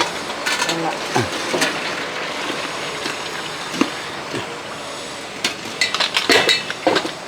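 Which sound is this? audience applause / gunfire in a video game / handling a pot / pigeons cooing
handling a pot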